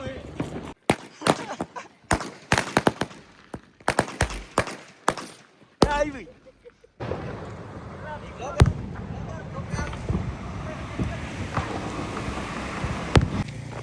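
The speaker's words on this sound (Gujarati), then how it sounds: "ફટાકિયા ફોડો જોઈ લ્યા" Diwali firecrackers explode in a rapid, irregular string of sharp cracks and pops that breaks off, then gives way to a rushing, windy outdoor wash with occasional further distant pops.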